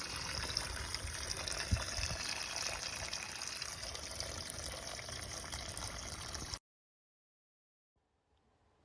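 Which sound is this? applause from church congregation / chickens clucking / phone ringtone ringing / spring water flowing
spring water flowing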